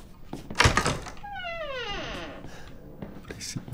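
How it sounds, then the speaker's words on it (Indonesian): Door in the Resident Evil 7 video game, a heavy thunk followed by a long, descending creak, close and loud, with a voice talking around it. "Berisik betila bunyi pintunya."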